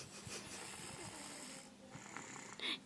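A pet snores while asleep, a faint and rhythmic rasping breath with a louder snort near the end, heard with no talking.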